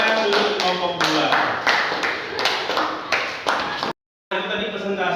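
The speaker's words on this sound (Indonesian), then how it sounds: "beri tepuk tangan untuk kelompok 2" A classroom group claps in applause for student group 2 after its presentation, a rapid cluster of hand claps lasting a few seconds. Voices mix in, and the sound cuts off briefly near the end before resuming.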